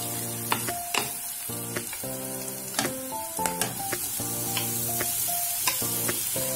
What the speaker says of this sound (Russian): Овощи слегка поджарились. Добавляем кабачок и убавляем нагрев плиты.